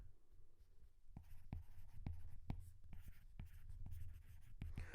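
A pen writes an equation by hand, producing a series of soft, close scratchy strokes and taps in an uneven rhythm over a low steady room hum.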